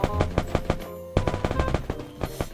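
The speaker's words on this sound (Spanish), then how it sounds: "me está disparando" Rapid automatic gunfire in the Free Fire battle royale game crackles in fast bursts, loud and close, with a short gap before the shooting resumes.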